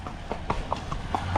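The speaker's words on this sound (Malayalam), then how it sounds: "നമ്മൾ നേരെ കുതിരയും കൊണ്ട് കുറച്ച് നേരം റൈഡ് ചെയ്തിട്ട് വരാം." Hooves of a horse being ridden at Kodaikanal beat out a steady, evenly spaced clip-clop, about five or six distinct strikes close by over a low background rumble, with no talking.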